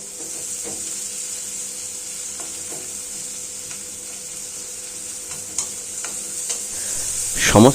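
Curry leaves and chopped onions fry in hot oil for an egg curry, giving a steady sizzle with occasional clinks of a stirring spoon against the pan and a louder scrape near the end.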